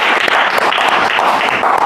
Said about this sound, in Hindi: एक जोरदार ताली बजाइए।